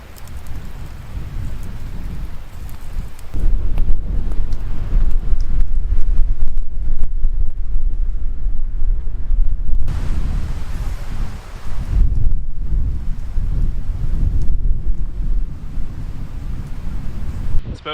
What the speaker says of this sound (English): we're starting to hear thunder now, which was not even forecasted